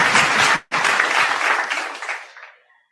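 Loud applause from a conference audience for a speaker, a thick wash of clapping that briefly cuts out, resumes at full strength, then gradually thins and fades away.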